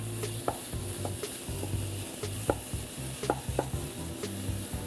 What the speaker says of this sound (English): I'm going to sear that on all sides